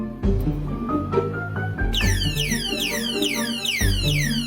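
A motorcycle alarm blares a rising siren followed by rapid warbling, chirping sweeps that repeat loudly, with a few beeps and clunks beforehand.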